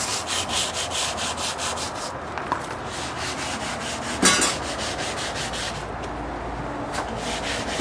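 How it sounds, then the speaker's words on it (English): Close sandpaper rubbing in rapid, steady back-and-forth strokes, with a couple of brief louder knocks partway through. "Sandpaper here."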